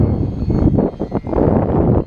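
A small propeller engine on a model airplane in flight buzzes loudly, its drone surging and dipping as it passes, with gusts of wind noise buffeting the microphone on a windy day.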